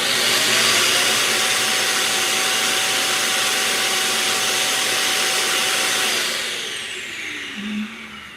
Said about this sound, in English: my Roomba is really working today